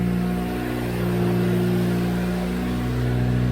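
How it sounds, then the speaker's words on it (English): A turbocharged Toyota Corolla with a manual gearbox holds its engine at high revs in first gear as the wheels spin, giving a loud, sustained, steady mechanical whine with a strong low hum underneath. "Alright, we were just spinning."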